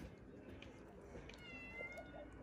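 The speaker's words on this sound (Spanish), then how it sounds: "Cállate, pinche gato," A cat meows a few times in a busy home, the cries rising faintly over steady background noise and nearby talk.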